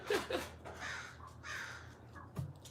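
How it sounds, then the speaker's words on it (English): A crow caws repeatedly outdoors, several harsh, rasping calls in an uneven series, fairly close and loud over quiet surroundings. "Crow is yelling at the chat."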